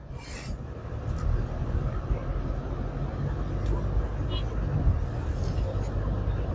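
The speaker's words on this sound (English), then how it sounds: "There's people, there's cars, there's motorbikes" Busy traffic on Sadr Road in Rawalpindi, with cars and motorbikes passing and a steady road rumble heard from inside a moving vehicle, while people talk over it and occasional brief higher noises cut through.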